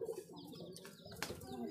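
A Madrasi or Giribaj pigeon in a loft coos softly in a brief, faint, low murmuring call, heard up close with no talk.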